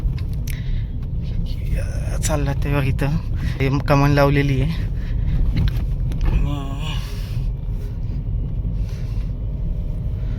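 A Tata Tiago automatic car drives along narrow roads, its steady low engine and road rumble running continuously beneath someone talking close by.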